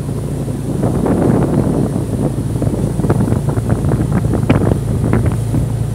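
Tour boat cruising near Koh Chang, Thailand: a steady low engine drone with water wash and wind buffeting the microphone, continuous and fairly close, with no talking.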